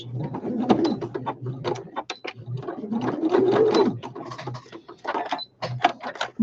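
A sewing machine stitches across a small gap in a homemade fabric weight, producing a dense, rapid run of mechanical ticks and whirring in several bursts with brief pauses, close and moderately loud, with no talking.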